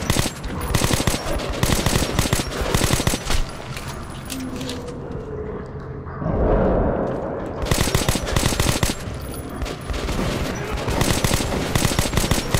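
Rifle fire in Metro 2033 Redux during combat on a trolley: rapid bursts of loud, close gunshots, a brief lull near the middle, then more sustained automatic fire.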